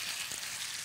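Food sizzles in a hot pan with a steady, hissing crackle, fairly quiet and brief.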